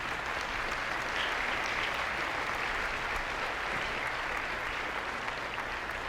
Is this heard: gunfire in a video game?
no